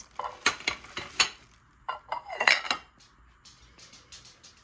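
Floral china dishes clink and knock together as they are handled, giving a quick run of sharp ceramic taps close by, then a quieter stretch of softer clatter with no voices.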